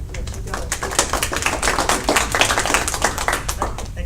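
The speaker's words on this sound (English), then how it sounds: "Let's just give you a quick round of applause" Audience applause at a presentation, a moderate burst of many scattered hand claps in a room, steady for a few seconds at middling loudness.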